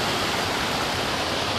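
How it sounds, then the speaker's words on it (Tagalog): Loud river flowing, a dense, steady broadband rush of water close by, with no voices over it. "Malakas po yung ilog."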